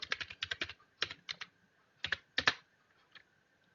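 Keystrokes on a computer keyboard as a search keyword is typed into a search bar, a quick close burst of clicks, a pause, then two more short clusters and a final tap, quiet and alone.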